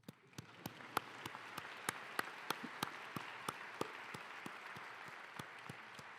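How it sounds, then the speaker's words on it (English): Sparse, scattered clapping at a commencement ceremony, a few hands striking in a slow, irregular rhythm, faint and spaced out in a quiet hall. "Applause."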